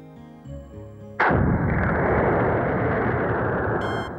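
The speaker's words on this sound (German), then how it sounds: "Eine Erschließungsmethode besteht darin, unterirdische Explosionen auszulösen." A sudden heavy blast from underground explosions erupts after a quiet tonal passage, followed by a long, dense rumbling roar that holds steady for several seconds.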